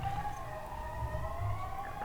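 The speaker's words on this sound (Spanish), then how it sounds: "Se oyen todavía las sirenas pasando por aquí por la calle Alcalá." Emergency sirens wail from the street along Calle Alcalá, a faint, distant sustained tone over low city rumble.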